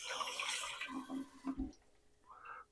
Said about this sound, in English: Let me rinse my board.